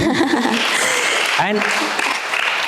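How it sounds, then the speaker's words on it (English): Audience applause at a literary talk event in Kolkata, a steady wash of clapping running under a voice speaking over it, with a brief chuckle. "Women should applaud for this, man."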